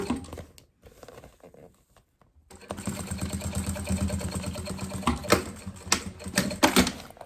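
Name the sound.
sewing machine stitching bias binding onto a pencil case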